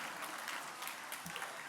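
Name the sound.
audience applause for the pitches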